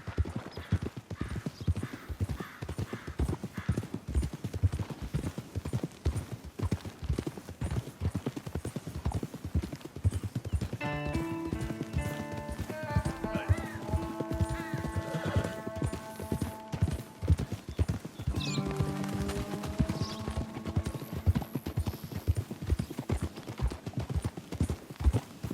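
Horses galloping in a race in the Red Dead Redemption 2 video game, a steady rapid clip-clop of hooves throughout, with an occasional whinny and brief voices partway through.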